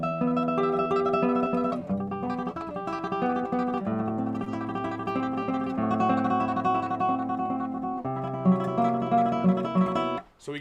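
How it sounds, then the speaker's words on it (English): Classical guitar tremolo, thumb picking bass notes beneath rapid repeated finger arpeggio notes on the upper strings, giving a sustained shimmering melody; played solo and close, with no talking. "every time that I play a tremolo for somebody, they always say the same thing, which is it sounds like it's two guitars."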